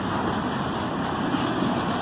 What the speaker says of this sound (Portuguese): esse aqui é o trem de container da Brado